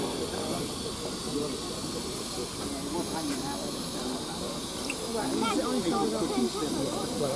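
Steam locomotives at Tyseley Locomotive Works hiss steadily and quietly, with faint clanks and background murmur throughout.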